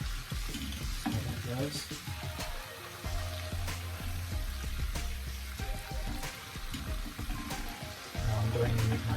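Chili flakes sizzle and fry in oil in a pan for honey butter fried chicken, a continuous close crackle with stirring scrapes, while a voice speaks briefly over it.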